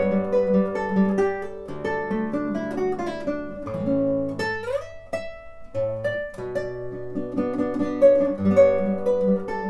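A classical guitar plays a chorus arrangement of a song, with plucked melody notes over bass strings, a brief strummed flourish midway, and clear, close sustained tones with no talking.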